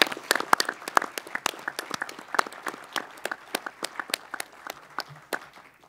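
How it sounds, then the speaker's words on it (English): Summit audience gives invited experts a round of applause: sparse, distinct hand claps from a modest crowd, steady at first and gradually thinning out over about six seconds. "Can we all give these national experts a round of applause for making the trip?"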